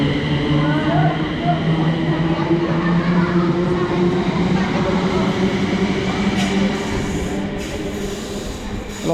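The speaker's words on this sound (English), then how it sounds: "Off goes a service to London Euston" A train pulls out of Nuneaton station bound for London Euston, its loud, steady rail rumble and wheel noise filling the platform continuously, with faint squeals rising near the end.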